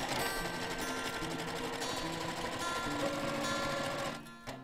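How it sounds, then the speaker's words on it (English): Sewing machine running steadily as it stitches the lining of a quilted zipper pouch along a quarter-inch seam, a continuous near whir that stops abruptly at the end. "I'll just go forward a couple of stitches and then back a few stitches"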